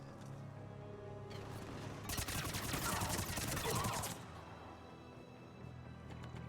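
Rapid gunfire from the video game Mass Effect 3 crackles in a dense, continuous burst of about two seconds mid-clip, loud over a steady low game ambience that carries on before and after.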